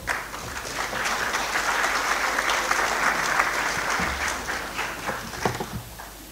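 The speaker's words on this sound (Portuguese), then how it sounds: "Para quien pido un gran aplauso, por favor." Seminar audience at a Latin American university in Brazil gives a loud, sustained round of applause. The clapping swells and holds for about six seconds, then thins toward the end.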